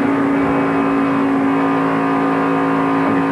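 A pack of ARCA stock cars in a 1994 race thunders past in a dense, loud and continuous engine roar heard from close by, with no pauses.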